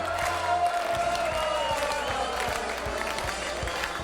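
A TV game-show studio audience claps and cheers in a sustained, steady roar, with scattered whoops and raised voices riding over dense applause that never lets up.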